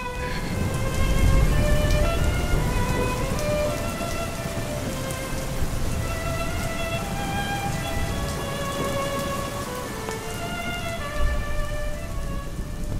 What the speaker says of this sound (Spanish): La tempestad continuaba tronando más espantosa cada vez.